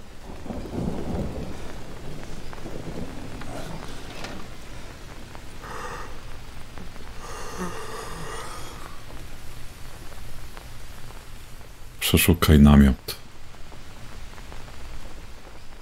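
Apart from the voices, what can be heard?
thunderstorm and rain in the video game Green Hell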